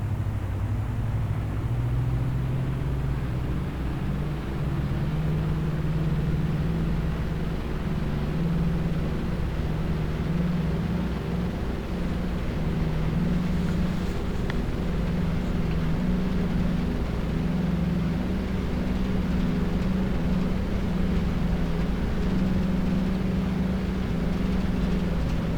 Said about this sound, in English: Run up the engines and we'll be on our way.